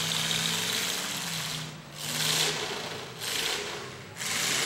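A demolition derby car engine at the 2009 Clinton County Fair being cranked repeatedly without catching, a loud rhythmic grinding starter whir that pauses and resumes in about three bursts.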